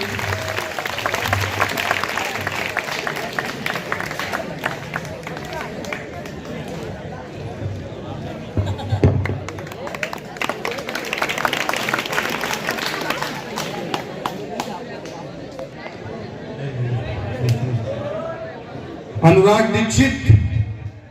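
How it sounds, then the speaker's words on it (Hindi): Audience clapping at a school Gandhi Jayanti event at an inter college, bursts of applause and crowd chatter rising and falling over about twenty seconds, with voices talking through much of it. "तालियां बजाते रहिए।"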